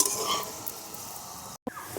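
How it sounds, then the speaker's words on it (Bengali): Vegetables for a flattened rice chop fry in hot oil with a continuous soft sizzle close by, briefly cut off before it resumes. "আমি লাল লাল করে ভেজে নিচ্ছি"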